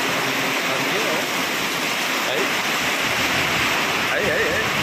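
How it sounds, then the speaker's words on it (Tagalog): Loud, unbroken wind noise in heavy rain batters the microphone over a rushing water roar, with faint voices in the background. "Lakas ng hangin,"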